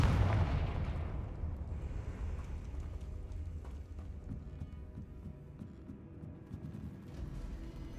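A Confringo fire-blast spell bursts in the Hogwarts Legacy video game, a loud, booming explosion that rolls into a dense, rumbling roar sustained for several seconds, with scattered crackles and thumps over it.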